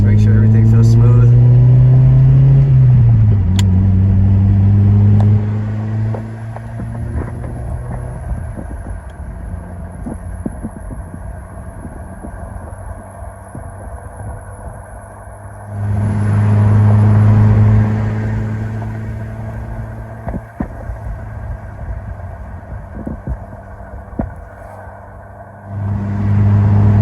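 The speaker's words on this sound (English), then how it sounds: "we're gonna take this car out on the road and see how it feels with the K24 now" An Acura RSX Type S with a K24 engine swap drives on the road, its engine rumbling and revving up through the gears with rises and dips in pitch, heard from inside the car with wind noise and someone talking over it.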